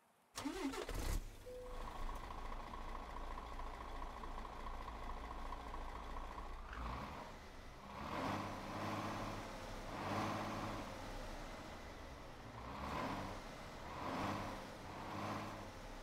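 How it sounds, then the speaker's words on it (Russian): A Mercedes Axor 1840 truck's diesel engine in Euro Truck Simulator 2 cranks and catches, then settles into a rough idle with periodic revs swelling and falling, loud and close with no talking. "Так, заводим, послушаем двигатель."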